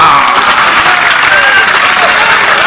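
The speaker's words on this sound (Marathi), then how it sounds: "पठारावरून आलेल्या कार्यकर्त्यांचं जल्लोषात टाळ्या वाजून स्वागत करा" Loud, dense crowd applause at a Marathi political rally in Akole welcoming party workers from the plateau region, continuous and close with faint voices mixed in.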